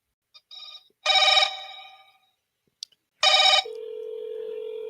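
Outgoing call on a telephone rings twice, each burst a bright electronic trill separated by silence, followed by a steady flat tone, heard clearly and alone.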